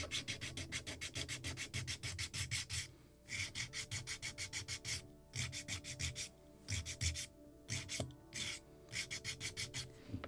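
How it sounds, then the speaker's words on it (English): Wooden hull of a model lobster smack kit being hand sanded, brisk rhythmic back-and-forth rasping strokes in quick bursts with short pauses between, close up and alone. "so we are sanding at this angle"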